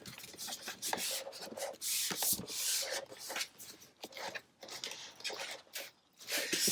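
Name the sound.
scraping stencil vinyl down on a grip mat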